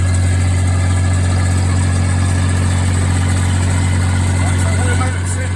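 A farm engine idles steadily on a field as it warms up before spreading septic tank waste, a low constant hum running close and unbroken, with people talking over it.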